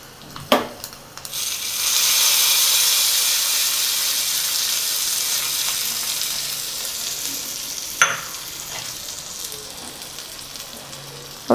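Curry-leaf tempering crackles, then a loud, steady sizzle and hiss as the hot oil is poured into onion chutney for Mysore bonda. The sizzle holds for several seconds before fading, with a few sharp clinks.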